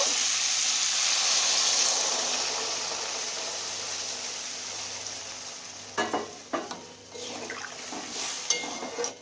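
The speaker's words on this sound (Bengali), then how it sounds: "কষানো হয়ে গেছে, জল দিয়ে দেব।" Water poured into a sizzling pan of bitter gourd and katla fish curry: a loud steady frying hiss that gradually softens, followed by several clattering stirs near the end.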